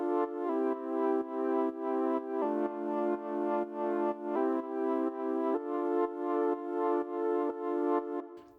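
A layered synth pulse-wave line, the same part recorded three times and spread wide across the stereo field, plays steady rhythmic chords that shift pitch every couple of seconds, with no voices.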